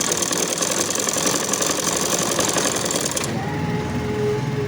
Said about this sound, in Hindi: अब यहाँ पर हम बीच सेंटर में सिलाई करेंगे।